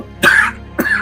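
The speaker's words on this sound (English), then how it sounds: "I've been coughing lately" Two short, harsh coughs from a single person, close and fairly loud, separated by a brief pause, with no talking.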